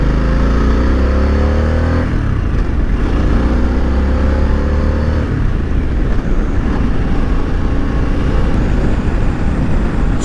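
A 2021 Harley-Davidson Sportster S with a mid control kit accelerates through the gears, its loud engine drone rising in pitch, dropping at shifts near 2 and 6 seconds, then climbing again amid heavy wind rush.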